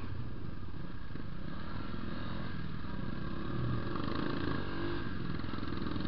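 A Yamaha Fazer 250 motorcycle with dual exhausts idles loudly and steadily up close, its deep exhaust rumble throbbing throughout with faint mechanical clatter.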